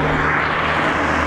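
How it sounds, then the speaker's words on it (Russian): A motorcycle drives past as a loud, steady engine roar that holds evenly through the short moment, with no talking. "мотоцикл забирать мимо едет"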